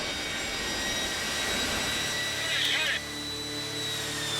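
Jet engine roaring at full thrust to blow tornado-strength wind, a loud steady broadband rush that holds through the clip and drops slightly near the end as the engine is cut.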